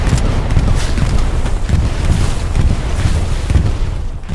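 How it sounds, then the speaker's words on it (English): A creeping artillery barrage from a commander's bombing run in the World War II shooter Hell Let Loose pounds steadily, with loud, rapid overlapping booms and rumbling blasts rolling without pause. "When this creeping barrage is making its way towards you"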